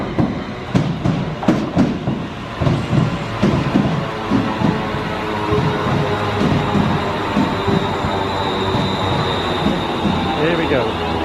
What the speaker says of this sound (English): The train's about to burst out of the tunnel.